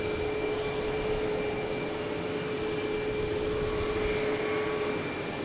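Jet airliners, including a Delta E175 arriving, roll and land at Boston Logan Airport, a steady, unbroken engine roar held at moderate distance throughout with a faint tonal whine riding on top.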